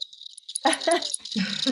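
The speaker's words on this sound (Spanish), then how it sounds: "Entonces yo digo grillos, hay varios subgrupos dentro del grupo de grillos y los podríamos identificar por los sonidos" A recorded cricket chirps in a clear, rapid, rattling trill, played back in short bursts of pulsing high chirps that stand alone without talk.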